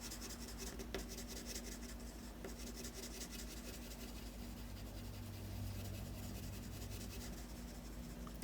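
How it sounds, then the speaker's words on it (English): Colored pencil shading on paper, a soft continuous scratchy rubbing as the tip is dragged back and forth, faint and close under a steady background hiss. "Just haze it down into the white of the paper."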